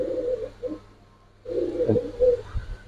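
Giribaz pigeons cooing up close, two low, throaty coo phrases separated by a short pause, quiet and with no other sounds.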